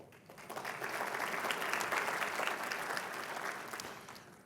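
Steady applause from a conference audience at a small business finance forum's opening plenary, honoring silver sponsors; a sustained wash of clapping that swells and fades, moderately distant and alone.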